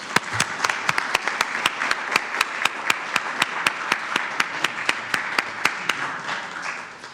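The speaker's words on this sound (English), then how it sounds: "Let's give them a round of applause." An audience at a candidate debate applauds steadily for several seconds, with a continuous wash of clapping and sharp regular claps close by, fading slightly at the end.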